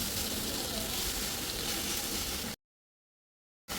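Sliced onions hiss and sizzle steadily in hot oil left over from frying chicken, a dense, even crackle that cuts off abruptly to silence before briefly returning.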